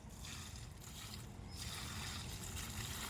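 Water poured from a bucket onto a wilted tree growing in stony ground outdoors: a steady, faint rushing splash that continues without a break for a few seconds, with no talk.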